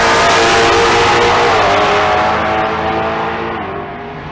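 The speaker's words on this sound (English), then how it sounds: "The right lane is Tyler Yates, the 2016 model Charger Hellcat." An S550 Mustang and a 2016 Dodge Charger Hellcat drag race at Bandimere Speedway, engines roaring loud at launch with rising revs, then the sound fades steadily as both cars pull away down the strip.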